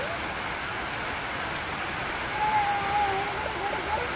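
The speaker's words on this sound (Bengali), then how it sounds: "সারাদিন বৃষ্টি।" Steady rain falls all day over a Bangladeshi village toward evening, a continuous close patter and wash with a brief faint tonal sound partway through, and no talk.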